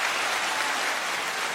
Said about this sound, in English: I'm going to get a round of applause.